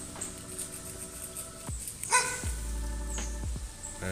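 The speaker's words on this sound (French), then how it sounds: "Ah tiens, il n'y a pas qu'un chien." Several dogs bark outdoors in a wooded, brambly spot, with repeated barks and yips of varying loudness spread across the stretch, some closer and some further off, under a steady background hiss.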